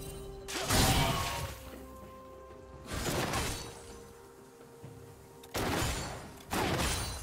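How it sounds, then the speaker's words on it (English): Turret destruction in League of Legends, a Kata versus Zilean mid-lane match: several loud crashing, shattering bursts spaced a couple of seconds apart over a low steady game ambience, with no voices. "Red team's turret has been destroyed."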